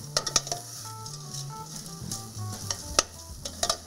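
Noodles stirred in a frying pan with cauliflower and peppers to come, a steady sizzle under repeated scraping and clinking of the utensil against the pan, close and moderately loud, with no voices.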